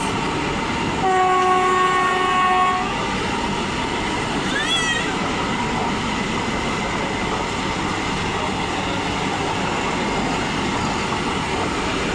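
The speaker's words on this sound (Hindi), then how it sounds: "पूरी हावड़ा वंदे भारत एक्सप्रेस।" Puri-Howrah Vande Bharat Express train passing, its loud horn blasting for a couple of seconds near the start, then a continuous roaring rumble of rail cars rolling by at close range.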